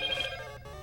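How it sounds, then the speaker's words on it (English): A new mobile phone sounds a short, bright electronic notification chime, a quick ringing burst close by that fades out within a second. "that's my new phone that just rang there."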